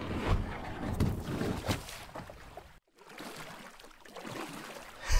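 Pirates rowing a longboat at sea: uneven swells of splashing water and oar strokes, with a brief silent gap before the rowing picks up again.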